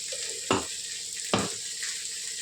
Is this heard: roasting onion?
yes